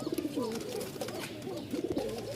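Several Rajshahi Giribaz pigeons coo in low, rolling calls, a continuous burbling chorus nearby with no talking.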